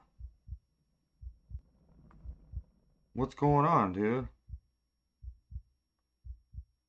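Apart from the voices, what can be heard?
heartbeat sound effect in the video game Boogie Man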